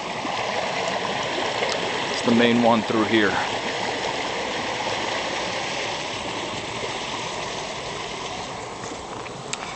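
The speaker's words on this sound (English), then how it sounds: "Water flows down here, back to the neighbors, through some of my trees, things like that." Water flowing through a small garden stream, a steady broadband rushing and trickling that runs the whole time, with someone briefly talking over it near the start.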